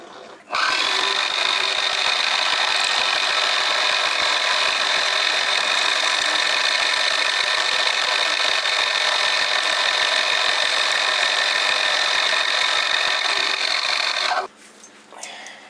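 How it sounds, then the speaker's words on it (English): A milling machine skims a metal surface on a rotary table with a loud, steady grinding whine that runs unbroken for about fourteen seconds and then stops abruptly. "so let's just skim a bit off the surface first"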